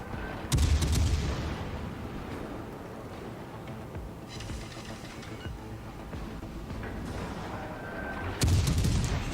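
Ship guns fire in a naval warfare video game, two heavy booming salvos, one near the start and one near the end, over a steady rumbling background.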